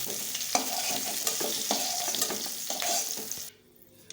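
Potato pieces sizzle steadily in hot oil in a pan, with occasional stirring clicks, before the frying noise drops away sharply near the end.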